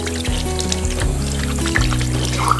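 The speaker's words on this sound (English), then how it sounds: "Turn the water off." Bathroom sink tap water pours steadily at an indoor dinosaur playground, a continuous close stream with small shifts in flow and light clatter on top.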